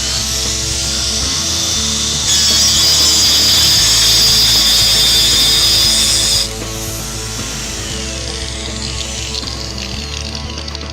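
A power tool cuts stone tile while sliding along a StoneClip jig with the tile clamped, a loud steady whine with a harsher grinding stretch in the middle before easing off.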